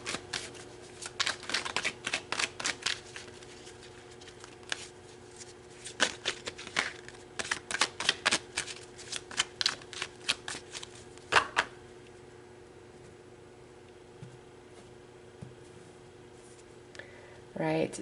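Tarot cards being shuffled, a rapid series of crisp riffling slaps and flicks in bursts, close and fairly quiet, fading to near silence toward the end with a steady faint hum beneath.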